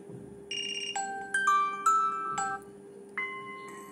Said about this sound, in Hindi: मैं आपको स्टेप बाय स्टेप सारे अलार्म रिंगटोन जो है प्ले करके दिखाऊंगी।